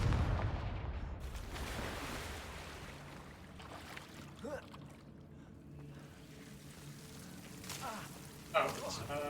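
Confringo blasting spells go off in the Hogwarts Legacy video game: a couple of short, sharp bursts rise out of a steady, rumbling ambient bed, with a louder blast near the end.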